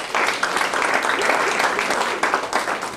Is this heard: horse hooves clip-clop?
no